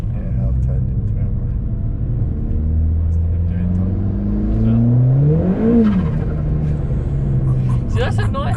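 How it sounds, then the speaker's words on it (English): A tuned Ford Fiesta ST with an RT330 Revo remap revs and accelerates hard with wheel spin. The loud, rising engine note climbs steadily inside the cabin, and people talk over it near the end. "So have a little wheel spin here."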